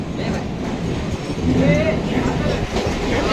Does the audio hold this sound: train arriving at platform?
yes